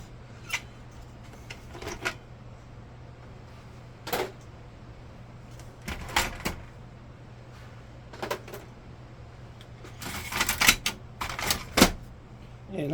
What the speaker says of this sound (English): let's go ahead and pull the toner cartridges out